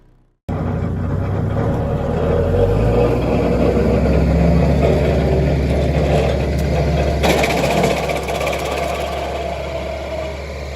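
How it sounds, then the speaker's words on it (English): Wood chipper engine running steadily and loud while shredding a large pine tree, a continuous heavy drone with grinding and rattling over the top. "Watch as this wood chipper takes on a large pine tree."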